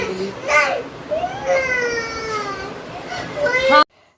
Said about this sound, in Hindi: आप उनकी रोने की आवाज़ सुनिए